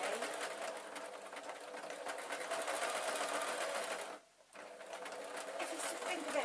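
A sewing machine stitches fur fabric for a stuffed toy raven, running steadily and close in a fast whirring buzz, pausing briefly near the end before starting again.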